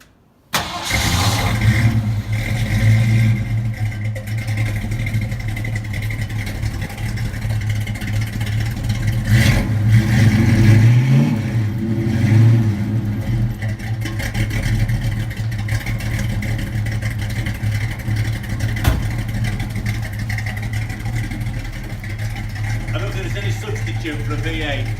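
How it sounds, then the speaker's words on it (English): A white and blue Ford Mustang coupe's small block V8 with a mild camshaft starts up, then idles with a loud, rough, uneven exhaust burble and a few blips of revving, close up and continuous. "which gives it that lovely rough, nice uneven burble on the exhaust. So we'll start it up. You can have a listen to that."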